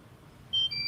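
An FPV drone sounds a low-battery warning: a pair of steady, shrill electronic tones switches on halfway through, close and loud, over a quiet background hum.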